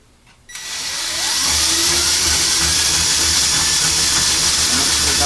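A power drill with a spade bit boring a shallow recess to sink a bolt head into layout benchwork: a short quiet lead-in, then the drill spins up and holds a loud, steady whirring whine.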